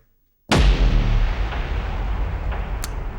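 Soundpaint's Instant Death preset, a big cinematic impact hit: one heavy booming strike after a brief silence, loud and deep, then a long rumbling decay with faint delay echoes repeating.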